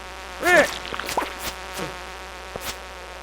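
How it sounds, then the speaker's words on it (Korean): A fly buzzing in the farming video game Stardew Valley, a short whining buzz rising and falling near the start, followed by faint flickers of game sounds over a quiet background. "아, 저 파리. 아, 이 소리 진짜 극혐!"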